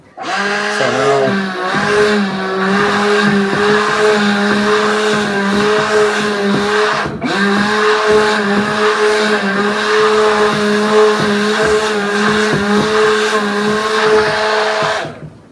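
A motorized mixer churns a thick natural wetting agent mixture for farming, breaking up large clumps, with a loud, steady whirring drone that runs almost unbroken throughout, dipping briefly once midway.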